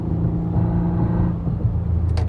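A Nissan Maxima with a CVT pulls hard at full throttle, heard from inside as a steady, loud engine drone and whir that holds one pitch, with a brief rattle at the end.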